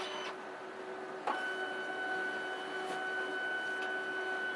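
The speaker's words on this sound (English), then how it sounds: "so it's printing yellow" A Fargo HDPii dual-side financial card printer runs a print pass, giving a steady mechanical hum with constant tones and a few brief clicks, close and alone with no talk.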